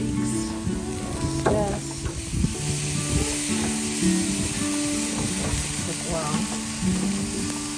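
Four steaks crackle and sizzle steadily on a fall grill, a close continuous frying hiss with small pops, while someone speaks briefly over it.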